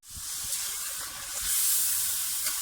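Ground spices hit hot oil with frying beef in a degi dana dar korma, giving a steady, bright sizzling hiss with soft pops that swells slightly midway, close up, with no talking.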